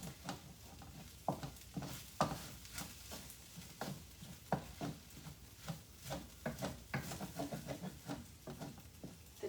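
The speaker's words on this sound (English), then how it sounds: "And back to stirring" Sticky rice with edamame and seaweed being stir-fried in a pan, a spatula scraping and tossing in repeated uneven strokes over a soft, continuous sizzle, close and moderately loud.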